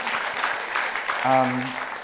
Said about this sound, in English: and yes, applause, please